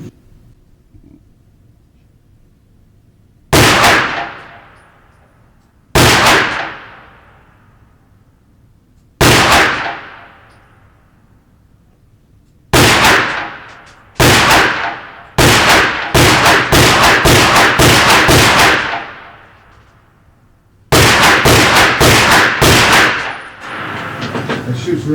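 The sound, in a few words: Walther pistol gunshots, slow fire at a range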